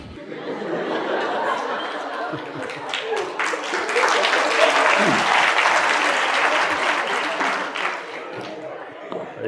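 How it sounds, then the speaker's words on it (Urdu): A university lecture audience in Lahore breaks into sustained, loud applause for a student's question, steady clapping with scattered chatter and light laughter throughout. "جتنے لوگوں نے آپ کے سوال پہ تالیاں بجائی ہیں"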